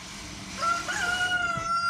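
Backyard chickens by their run and pop door, with a rooster crowing in a drawn-out call over faint clucking and rustling, moderately near.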